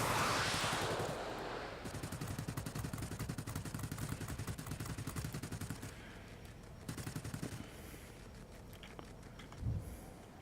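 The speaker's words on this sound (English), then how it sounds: "And we have an improved tail cannon on these. They're the 213C revolver cannons." Rapid, sustained bursts of 213C revolver cannon fire from an ME P.1102 B jet in a flight combat video game, dense rattling volleys continuing for several seconds with a few brief pauses.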